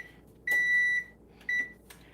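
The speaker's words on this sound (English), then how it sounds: "Okay, so the timer just went off." A kitchen oven timer goes off while salmon bakes in a foil pouch, giving one long steady electronic beep followed by a shorter one, clear and close in a quiet room.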